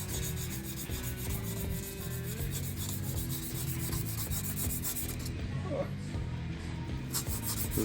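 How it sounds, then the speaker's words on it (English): Emery cloth rubs back and forth against a Honda Civic crankshaft rod bearing journal in a continuous, close, gritty rasp. The rubbing keeps a steady rhythm for several seconds without pause. "Resorting to sanding."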